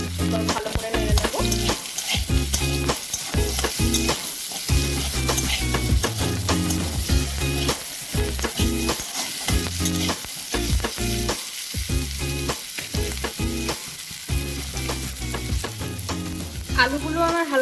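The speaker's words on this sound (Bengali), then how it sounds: "এবারে এতে টুকরো করা আলুগুলো দিয়ে দেব। দিয়ে ভালো করে নেড়ে নেব।" Potato pieces fry in a pan with a loud, dense sizzle while being stirred, giving repeated scraping strokes in an irregular rhythm throughout, close by.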